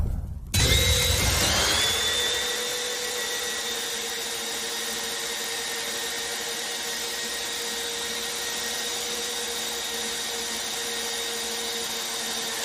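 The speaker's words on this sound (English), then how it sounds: "drilling a 2 1/8 inch hole with this spider hole saw bit into a small thin piece of pallet wood" A power drill with a 2 1/8 inch hole saw spins up with a sharp start, then runs in a steady whining drone as the bit grinds through thin pallet wood, loud and close, with no talking.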